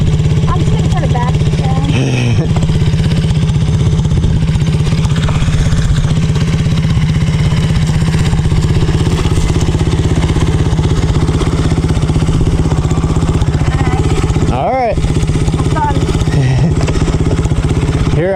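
A motorcycle engine runs steadily and loudly nearby with a constant low droning hum, while people talk over it and a few brief clatters break through.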